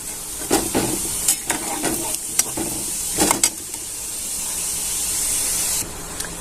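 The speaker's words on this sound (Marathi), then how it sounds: "आता डाळे तळून घेऊया इथे आपल्याला डाळे टाकून घ्यायचे आहे" Roasted chana dal frying in hot peanut oil for mixed poha chivda, a loud close sizzle and hiss with several sharp stirring scrapes early on, then a steadier crackle toward the end.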